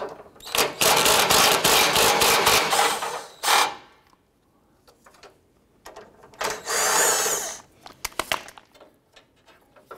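A 10mm bolt being removed from the radiator bracket of a 2009-2015 Honda Pilot, with bursts of rapid mechanical ratcheting from a tool, loud and close, separated by quiet pauses and a few light metallic clicks.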